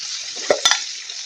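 Onion and potato curry being stirred in a pan, with a steady low sizzle and two brief clinks of a spoon against the pan.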